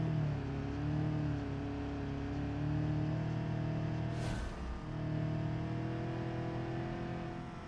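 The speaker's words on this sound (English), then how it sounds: "The only thing you hear is your engine slowly dying in agony." A car engine in the BeamNG driving game drones at a steady idle with a constant low hum and a brief whooshing blip midway, moderately quiet with no talking.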